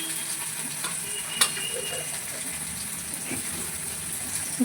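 Dry onion goes into hot oil already holding garlic and chilli, giving a steady, soft sizzle and crackle with a couple of sharper pops and the occasional stir.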